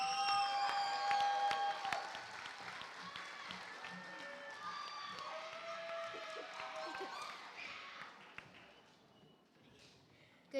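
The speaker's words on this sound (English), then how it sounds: "Everybody give a hand of applause to Thomas Jew and Brianna Mata." An audience at a middle school board meeting celebration applauds two student MCs with steady clapping and some cheering. Voices and tonal sounds run through it, and the applause fades gradually toward the end.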